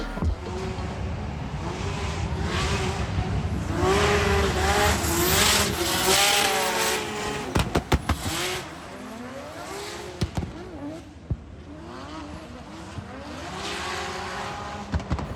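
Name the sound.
drift cars driving during tandem practice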